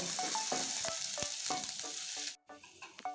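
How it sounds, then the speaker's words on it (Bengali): Garlic fries in oil with a loud, even sizzle while a spatula scrapes and taps the pan in a steady rhythm. The sizzle drops out abruptly near the end before quieter stirring resumes. "রসুনটা লাল করে ভেজে নেব"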